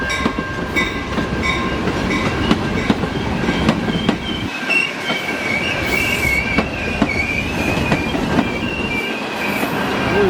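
A train arrives at a station with squealing wheels, rhythmic clicks over rail joints and a steady rumble, fairly close and continuous.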